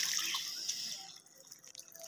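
Lukewarm water is poured into a container for pigeons to drink, a close splashing trickle that runs steadily then thins into scattered drips toward the end, without talk.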